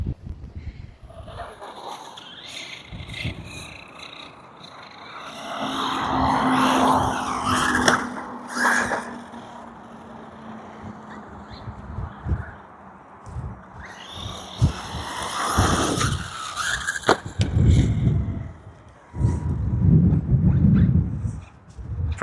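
An Arrma Vorteks 4S RC car runs on concrete, its electric motor whining up in bursts, tires scrabbling and skidding, with clattering thuds as it lands jumps; the sound comes and goes between runs.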